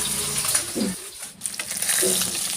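Fish shallow-frying in a pan for a local fish curry, a steady broadband sizzle running throughout with brief dips, a soft clatter as the pieces are turned over and a faint voice in the background.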